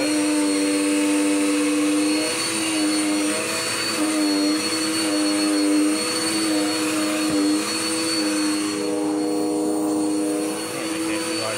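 A Dirt Devil Power Max vacuum cleaner runs steadily on carpet, a loud, close motor whine with a strong tonal hum that shifts slightly in pitch as it is pushed around, continuous throughout.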